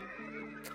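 A horse's whinny from the Shandalar Magic: The Gathering computer game, one short, steady neigh sounding alone at moderate volume.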